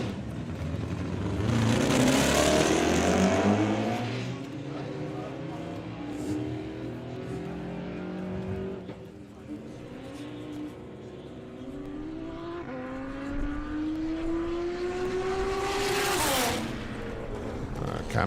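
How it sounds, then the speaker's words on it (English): An Audi TT drag car launches and accelerates hard down a drag strip, engine roaring and rising through several gear shifts, with another car's engine and a commentator's voice heard over the loud, distant-to-near racing noise. "Cam's first run, though, with the Audi TT."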